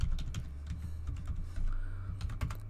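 Keystrokes on a computer keyboard while logging in to a Windows 7 virtual machine, a run of quick irregular clicks over a steady low hum, fairly close and moderately quiet, with no talking.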